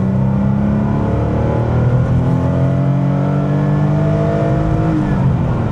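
A 1988 Porsche 911 Carrera 3.2 G model with an air-cooled engine revs loud and close in a continuous drone, its pitch rising and falling smoothly with no one speaking.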